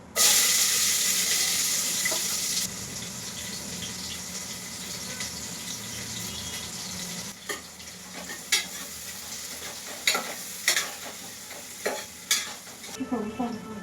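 Spices and onion fry in oil with ginger paste in a pan for chicken biryani, a loud steady sizzle that softens as sharp stirring clinks and scrapes rise near the end; no talking.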